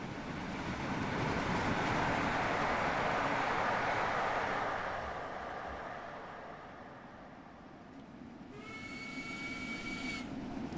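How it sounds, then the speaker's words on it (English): A passing train in Train Sim World 2 roars as a broad, steady rumble that swells and eases, then a bright horn or whistle tone sounds briefly near the end. "A train."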